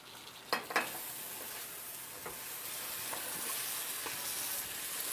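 Tomato and egg stir-fry in a wok, a soft steady sizzle with a few clanks of the spatula early on as the cooked tomato is stirred into the barely set egg.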